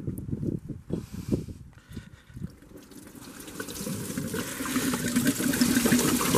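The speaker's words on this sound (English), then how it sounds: "Christ, that's a lot of coolant." Coolant pouring out of the engine of a Mercedes Vito W639 van with an OM646 engine into a catch pan: a continuous splashing gush that builds steadily louder over several seconds, close by, with no talking.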